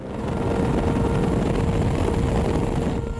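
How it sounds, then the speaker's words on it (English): Army Air Corps Lynx helicopter in flight, a steady, dense roar of rotor and turbine noise heard close and continuous without any break or speech. "Lynx helicopters have been vital throughout the conflict in Afghanistan."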